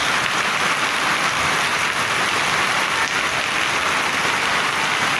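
Steady rain falls across the whole stretch, a constant loud wash of drops hitting surfaces with no talking.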